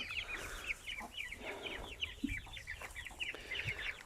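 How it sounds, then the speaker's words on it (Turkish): An Indian rooster clucks repeatedly in a farmyard, a run of short, bright calls in quick succession, fairly close but not loud, with faint background noise and no talking. "Bakın bu horoz."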